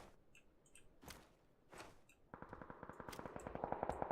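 Gunfire in a first-person-perspective duo match on FACEIT: a couple of isolated shots, then a rapid, even burst of automatic fire in the second half, moderately loud with no speech.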